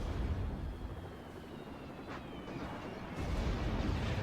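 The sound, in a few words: artillery turret firing, from the video game Act of Aggression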